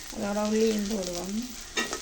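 Garlic and fennel seeds fry in a pan for a drumstick and jackfruit-seed curry, giving a close, steady sizzle with stirring scrapes and a brief louder burst near the end.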